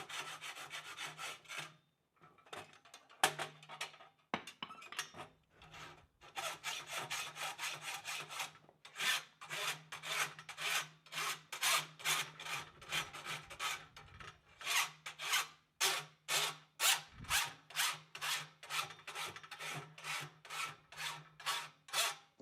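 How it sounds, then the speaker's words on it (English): An old rasp files the hoof side of a horseshoe in repeated rhythmic strokes, each a harsh scraping rasp, close and fairly loud, with short pauses between runs. "use an old rasp to remove any humps from the hoof side of the shoe"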